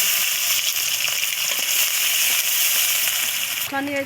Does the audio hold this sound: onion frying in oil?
yes